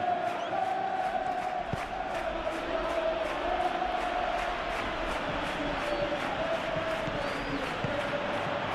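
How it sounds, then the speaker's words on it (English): A stadium crowd in the PES 21 football game swells with a steady roar of cheering and shouting, loud and continuous throughout, with a rhythmic chant pulsing beneath. "the crowd are reacting to that now"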